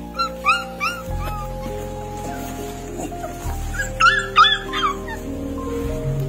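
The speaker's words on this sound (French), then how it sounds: "Une maman chienne désespérée suppliait les passants de l'aider." A desperate mother dog whimpers and yips in repeated high, pleading bursts, some clustered in quick runs, heard close and clear over a steady low background hum.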